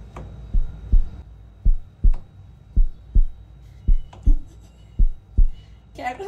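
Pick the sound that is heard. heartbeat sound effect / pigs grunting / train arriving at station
heartbeat sound effect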